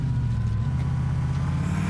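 A car driving in the video game GTA IV, its engine a steady low hum, constant and close, with no voices.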